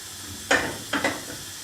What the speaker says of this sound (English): So beginning to sizzle a little bit.